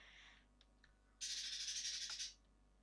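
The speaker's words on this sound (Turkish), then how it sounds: "Bizim kuş da çıldırdı." Pet bird calling indoors, a faint short squawk, a couple of brief chirps, then a loud harsh screeching burst lasting about a second, close by in an otherwise quiet room.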